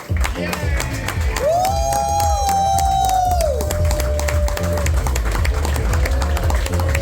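A comedy club crowd cheers and claps after a nurse comedian's set, with whoops and shouts riding over dense applause while a voice calls out through the noise.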